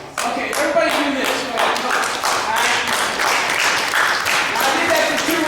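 A church congregation applauding a sermon on a cold day, with dense, sustained clapping from many hands, loud and close, lasting several seconds.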